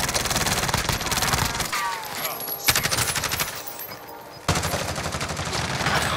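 Video game gunfire rattles in rapid automatic bursts, loud and close, broken by brief pauses and resuming with sharp, dense volleys.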